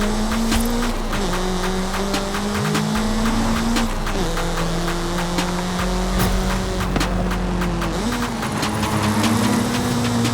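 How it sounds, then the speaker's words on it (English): A BMW M3 four-cylinder engine in Forza Horizon 5 revs loudly and steadily, climbing through several rising pitch sweeps with brief drops between them, close and continuous with no talk. "Just hear this four-banger real quick."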